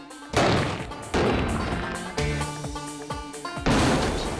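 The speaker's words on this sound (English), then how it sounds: "That is an explosion." A series of loud, booming blasts from explosive patches on a dummy torso in a science test, four heavy bursts spread across the span over a dense bed of sound.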